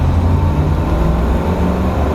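Classic car engine purring steadily while driving, a continuous low rumble with road noise and no talk over it.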